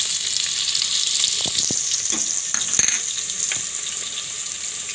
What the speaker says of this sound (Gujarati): તો તેલ ગરમ થઈ ગયું છે તો પહેલાં આપણે જીરું નાખી દેવું અને લીલું લસણ નાખી દેવું